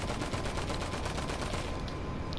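Rapid Uzi gunfire in a video game, a dense continuous burst of shots at a fast, even fire rate, fairly quiet and alone, trailing off near the end.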